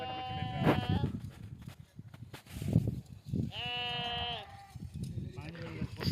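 Sheep bleating at a busy shearing place in the Cholistan desert, two clear drawn-out bleats standing out over people talking and background bustle.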